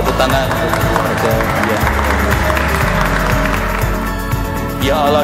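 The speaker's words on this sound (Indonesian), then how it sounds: "Sambut tepuk tangan keluarga" Family members applaud during a wedding ceremony at Le Meridien Jakarta, a steady wash of clapping over dense music and crowd noise lasting the whole moment.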